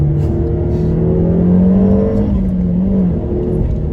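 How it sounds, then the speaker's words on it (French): A Peugeot 308 GTI's engine revs near 6000 rpm with a loud, steady air-intake roar and drone heard close from inside the car, rising slightly midway. "le bruit de l'admission d'air quand tu arrives aux alentours des 6000 tours"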